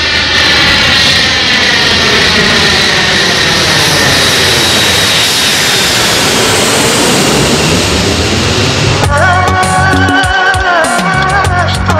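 An arriving flight's aircraft engine roars loud and close, a sustained jet-like drone whose pitch sweeps as the plane passes; near the end the roar breaks up into a harsher, rougher tone.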